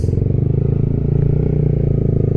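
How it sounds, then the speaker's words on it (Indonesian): A Honda CBR150R fitted with an RX8 aftermarket exhaust runs at low rpm, giving a loud, close, steady deep burble with a rapid even pulse. "knalpot ini tuh kalau di RPM rendah begini nih, dia itu kayak suaranya pelan banget gitu"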